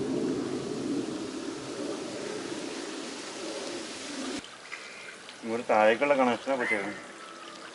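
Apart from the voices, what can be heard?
water gushing from a burst pipe onto the road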